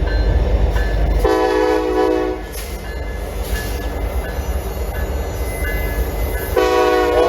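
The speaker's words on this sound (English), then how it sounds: "this train was led by a SC70 ACU. Pretty cool train." A passing train led by an SC70ACe locomotive roars steadily nearby as its horn sounds in a long blast, drops off, then returns with another blast at the end.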